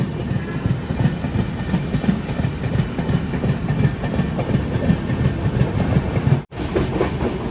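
Shraddha Sethu Express, a long-distance passenger train, running past Nellore station, heard from inside a 3AC coach: a steady loud rumble of wheels on rails with continuous clickety-clack, briefly cut off near the end.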